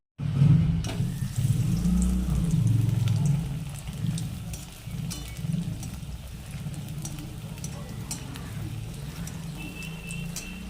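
Breadcrumb-coated loitta (Bombay duck) fish chops are eased into lightly heated oil, giving a steady, fairly loud frying hiss with faint bubbling that settles a little after the first seconds, with no voices.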